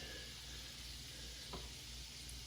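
Mushroom risotto stirred in a pan, a steady soft sizzle and hiss throughout with one faint scrape of the spoon near the middle, quiet and close, with no talking.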